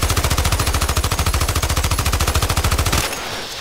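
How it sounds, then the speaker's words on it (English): Automatic gunfire from the Battlefield 2 Nightfall 2048 mod, a loud, rapid, steady burst of shots lasting about three seconds before cutting off abruptly into quieter game ambience. "I have no idea what I'm shooting, but I'm shooting."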